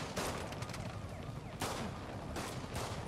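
Gunfire in Spider-Man on PS4 crackles as bursts of sharp shots, several loud cracks standing out over a continuous rattling barrage, with faint voices mixed in.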